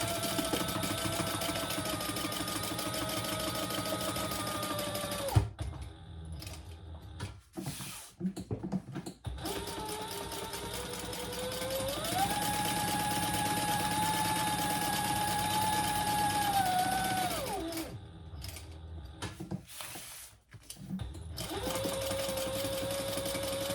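A sewing machine stitches a pocket onto a handbag in long, steady runs of loud whirring, broken by brief pauses where the motor stops and starts again.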